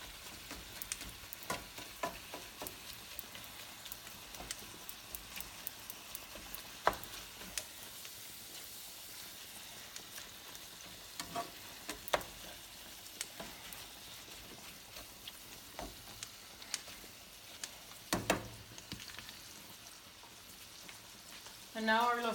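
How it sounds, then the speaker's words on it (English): Ground beef sizzles faintly in a pan with a steady soft crackle, broken by scattered scrapes and stirring clicks. "we have our ground beef cooking"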